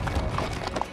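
Horses ridden along a trail in Griffith Park, Los Angeles, with hooves clip-clopping in an uneven, steady rhythm at close range throughout a short stretch.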